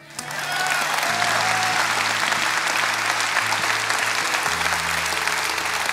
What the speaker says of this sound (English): Yeah, we're going to clap.